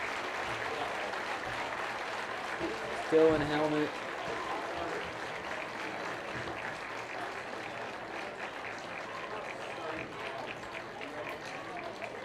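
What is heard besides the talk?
football crowd applauding an injured player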